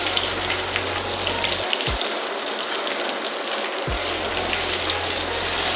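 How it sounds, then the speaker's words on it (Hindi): Onions fry in ginger garlic paste in a pot for chicken and potato pulao, giving a loud, dense, continuous sizzle like steady rain, with a low hum that drops out briefly midway. "प्याज को भी भून लेते हैं, गोल्डन कर लेते हैं।"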